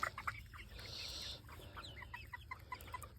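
Backyard chickens at a coop clucking softly: scattered short clucks and chirpy calls around a brief breathy sound, faint and close-by, no talk during the moment.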